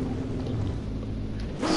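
A Nissan GT-R R35 engine in the racing game The Crew 2 drones loudly at high speed, steady and close, then swells briefly as it revs near the end.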